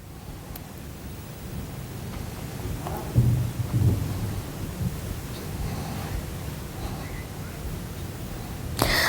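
Heavy unseasonal rain pours steadily across farmland where harvested paddy lies at a grain procurement centre, with low rumbles of thunder rolling in the middle and a louder burst near the end.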